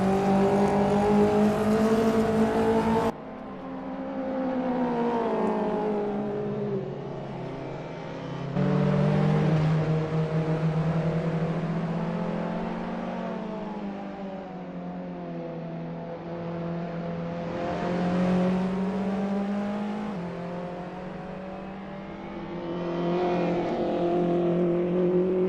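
Race car engines at Silverstone International in Assetto Corsa, touring cars in a British Touring Car Championship round, loud revving and gear changes as cars pass and recede, with engine notes swelling and fading over about twenty-five seconds.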